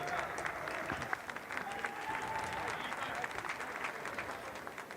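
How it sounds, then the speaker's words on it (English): Stadium crowd at a Gibraltar versus Wales football match gives warm sustained applause, a broad distant wash of clapping under a radio commentator's voice. "It's a warm round of applause."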